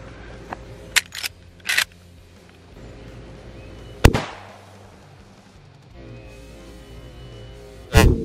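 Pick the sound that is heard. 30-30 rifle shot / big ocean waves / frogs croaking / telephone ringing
30-30 rifle shot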